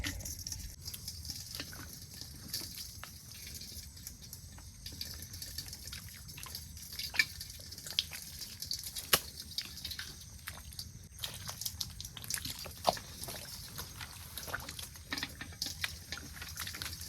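A heavy downpour falls during an outdoor hook fishing trip, making a dense, continuous patter of rain with scattered sharper drops throughout.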